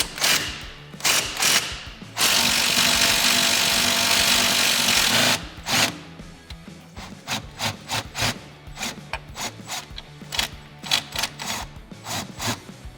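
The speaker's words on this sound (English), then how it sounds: "I'm gonna take my 15 on my electric impact gun." An electric impact gun with a 15 mm socket removes suspension bolts on a 2006-2022 rear-wheel-drive Dodge Charger, with a loud sustained whir of about three seconds followed by a long run of close ratcheting clicks and metallic rattles.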